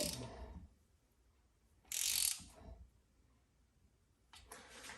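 A ratchet snugging down the engine cover bolts on a Kawasaki FR730V engine from a Cub Cadet Z Force mower, with a few short bursts of close mechanical clicking separated by quiet pauses.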